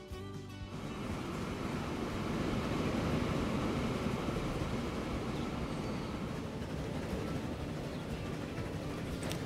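Continuous heavy rumble of a train running in the railway management game Transport Fever 2, a dense steady roar with no breaks that swells slightly after the first couple of seconds and holds for the rest.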